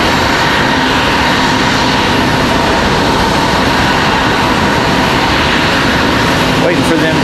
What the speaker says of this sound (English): CRJ making a whole lot of noise here.